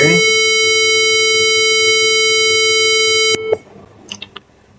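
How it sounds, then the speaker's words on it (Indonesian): A steady, loud electronic alarm buzzer tone drones for about three seconds, then cuts off, leaving faint clicks and handling noise. "buzzer akan nyala sebagai sebagai alarm"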